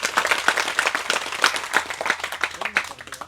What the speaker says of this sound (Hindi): उसके लिए ताली बजाओ भाई जोर से